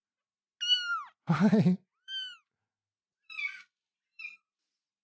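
Kittens meowing on a kitten cam, five separate high, drawn-out mews spaced over several seconds with one lower, rougher cry early on, close and clear; a person briefly says a greeting.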